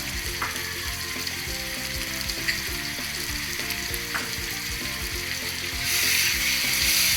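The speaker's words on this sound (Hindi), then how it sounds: "अब इनको अच्छी तरह हिला लेना है, इनकी भुनाई कर लेनी है।" Masala with tomatoes and green chillies fries in a pan for bhindi, a dense steady sizzle with faint stirring scrapes, close up, growing louder and brighter near the end.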